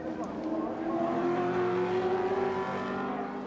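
A bunch of five touring race cars at Symmons Plains, Tasmania, in 1984, engines droning loud and steady together with a sustained high whine, under a commentator's voice.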